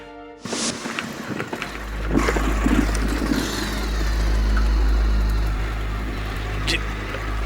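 A motorcycle engine rides home at night in a Hindi TV courtroom drama, starting after a brief opening sound and settling into a steady, moderately loud low drone that holds to the end with slight swells.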